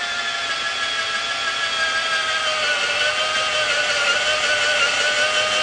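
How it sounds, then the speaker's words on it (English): A power drill runs steadily, boring holes into the back half of a wooden Pinewood Derby car, its high whine holding a constant pitch with no pauses and no talking. "Drill holes as many as you can in the back half of your car."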